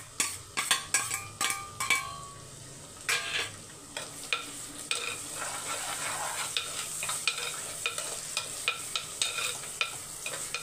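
Small shallots (sinna vengayam) frying in oil in a pan for a mother-style fish curry, soft steady sizzle under repeated scraping stirs and light clinks of a spoon against the pan, close and fairly quiet.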